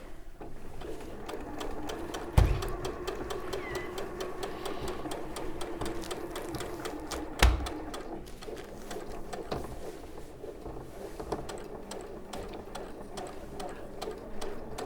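A Janome sewing machine stitches steadily, its fast mechanical whir and ticking running continuously close by, with a couple of sharp louder clunks along the way.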